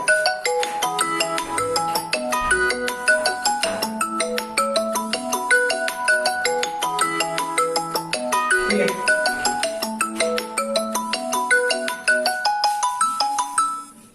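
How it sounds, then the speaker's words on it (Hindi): A melodic phone ringtone plays an incoming call, a bright repeating tune that rings loud and steady and stands alone without talk. "फोन आ रहा है, एक मिनट।"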